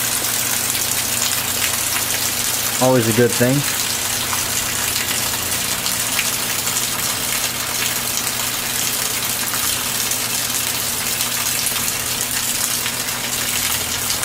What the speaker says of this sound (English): Well, it started raining.